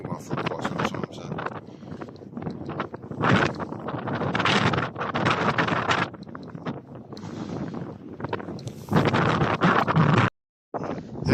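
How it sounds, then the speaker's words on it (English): Wind buffets an outdoor microphone at a coastal nature reserve, a loud rumbling roar that rises and falls in gusts throughout, with someone talking over it. "You still hear the wind, but you can hear my voice, so that's good."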